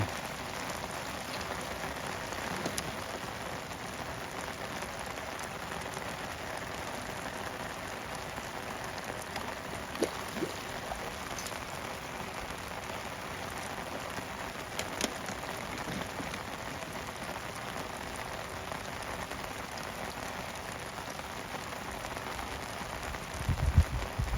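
Steady heavy rain falling on a riverbank while fishing, a constant dense patter with a few sharper drops and knocks, holding even throughout with a brief louder thump at the end.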